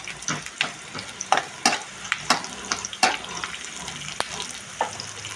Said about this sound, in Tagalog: Gisa-gisa lang sibuyas, bawang